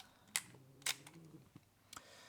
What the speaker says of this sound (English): set the shutter dial to B and press the release